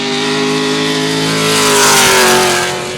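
A Nissan S14 drift car with an LS7 V8 engine screams at high revs during D1NZ drifting qualifying at Taupo, a loud sustained wailing engine note rising slightly in pitch, with no talking.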